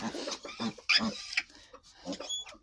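Farm piglets squeal and grunt in quick, shrill bursts close by, mixed with a person talking to them.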